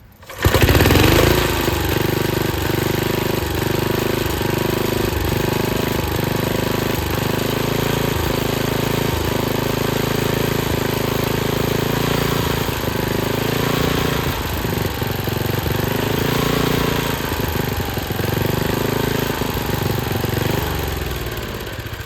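Swapped engine on a circa 1959 David Bradley Suburban garden tractor running after a start, a loud close putter with uneven, surging beats and slight stumbles, no talk.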